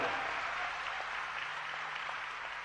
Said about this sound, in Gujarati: તાળીઓથી વધાવી લો.